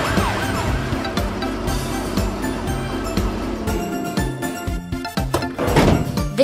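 A black toy police car sounds a looping electronic siren, loud and close, with repeated wailing cycles and a few thunks near the end, no talking.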